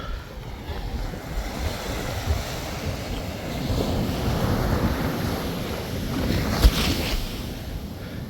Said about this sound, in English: Look at these waves, bruh.